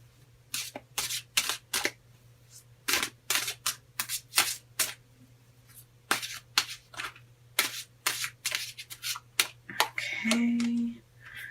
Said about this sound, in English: So we're going to pull 3 cards from the Rock and Roll Tarot deck. Okay, and let's get shuffling here.